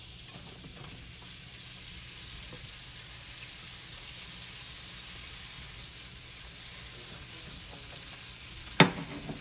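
Onions frying in melted butter give a steady, close hiss and crackle that holds evenly throughout, ending with one sharp clink of a utensil against the pan.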